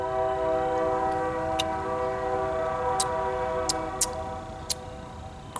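A Canadian National Railroad train passes in Louisiana, a steady broad rumble with sustained horn-like tones droning throughout, punctuated by several sharp metallic clanks and ticks from the rail cars, no voices.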